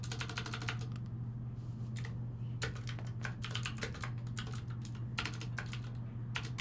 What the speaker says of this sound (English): Hard to type with one hand.